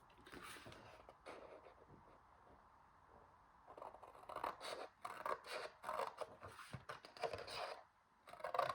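Scissors snip through a sheet of single-sided 12x12 patterned paper while cutting a multi-pocket flipbook, a soft close crisp cutting sound that starts faint and grows into repeated louder scissor strokes toward the end.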